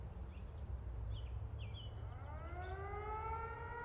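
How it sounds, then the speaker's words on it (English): A rising siren wail with layered harmonics swells in over a dense, loud wash of heavy metal music in the intro of a song, climbing steadily toward the end. "Interesting siren."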